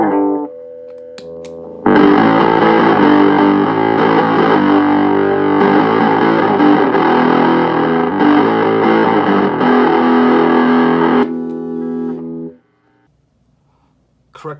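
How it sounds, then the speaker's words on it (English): An electric guitar played through a homemade Bazz Fuss fuzz pedal circuit rings out a loud, heavily distorted sustained chord for several seconds, framed by quieter fuzzy notes before and after. "that sounds like a fuzz pedal"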